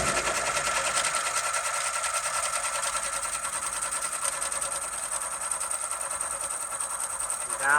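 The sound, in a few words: embroidery machine sewing underlay stitches for a letter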